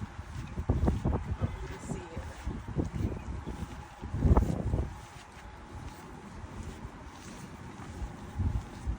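Gusty wind at a pier while magnet fishing, buffeting the microphone in low, uneven rumbles with a stronger gust midway, steady background noise throughout.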